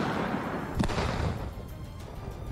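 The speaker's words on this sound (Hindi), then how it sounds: "इस दौरान वहां पर जोरदार धमाका हुआ और आग की लपटों के साथ काले धुएं का गुबार ऊपर उठता हुआ दिखाई दिया।" A defused bomb detonated by the Russian army in Ukraine bursts as one dull, booming blast near the start, followed by a rumbling, noisy wash that fades slowly with no voices.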